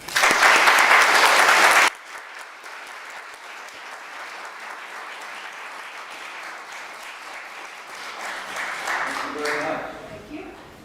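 A loud burst of audience applause welcomes a speaker at an evening Legal Aid Society centennial celebration, lasting about two seconds before dropping away to quieter room murmur and faint voices.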